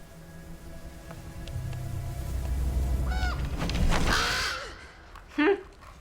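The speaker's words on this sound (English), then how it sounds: "Those dang stinking crows or ravens, whatever they are." Ravens in an episode of the fantasy TV drama Game of Thrones give a few harsh, croaking caws over a low rumble, with voices in the background.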